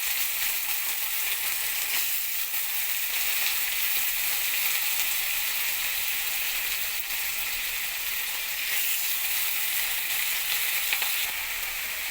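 Constant loud sizzling of sliced potatoes frying in hot oil with garlic and green chilli, close up and unbroken, with no voices.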